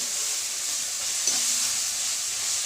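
Onions, green chillies, curry leaves and garlic sauté in a pan for beef curry, giving a steady broadband sizzle with a faint stir partway through, close and continuous, no talk.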